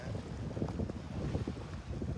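Strong sea wind blows against the microphone on a Swedish coast, a steady low buffeting roar with gusty swells that fills the whole stretch, with no other clear sounds.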